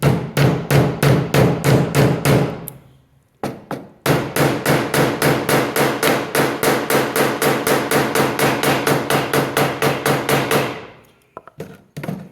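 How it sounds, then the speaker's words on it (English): Rapid, steady hammer blows on a wooden wedge fixing a railroad spike tomahawk head, ringing out loud and close, a long run of sharp strikes, a brief pause, then another sustained series that trails off. "We're going to put that right in the middle and just smack it with a hammer."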